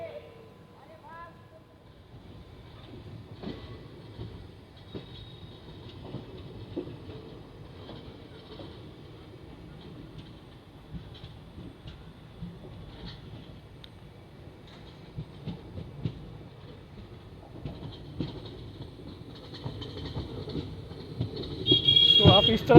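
Koyna Express pulling out of Targaon station, a steady low rumble of rolling wagons and track noise that builds gradually toward the end, with people talking throughout.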